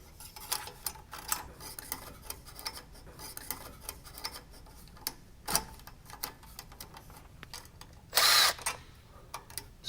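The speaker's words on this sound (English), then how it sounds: "You can use a 3/4 inch drill bit or a step bit to help enlarge the pilot hole." A drill with a 3/4 inch bit or step bit enlarges a pilot hole for an O2 sensor bung during a Holley Sniper EFI installation, with light ticking and handling noises and then one brief, loud, high whining burst.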